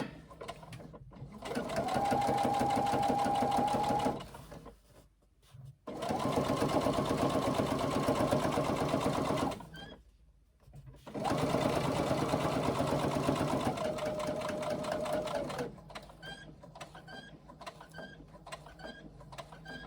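A sewing machine stitches around the edge of a tote bag in three long, steady runs of motor whir, each broken by short pauses where it stops at corners, then quieter handling noise at the end.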